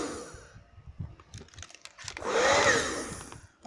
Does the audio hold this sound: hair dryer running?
yes